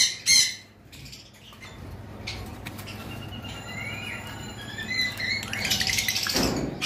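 Lovebirds of high-mutation colour varieties, kept for sale, squawk and chatter in shrill, overlapping bursts with scratchy rustling, growing busier and louder toward the end.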